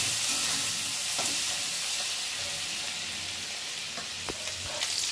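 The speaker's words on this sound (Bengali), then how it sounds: "হালকা করে হলুদ গুঁড়ো দিয়ে চিংড়ি মাছটা একটু লাল লাল করে ভেজে নিচ্ছি" Prawns fry with salt and turmeric in a Bengali village-style kitchen, a steady close hissing sizzle of hot oil that runs throughout, with a few soft stirring clicks and no talk.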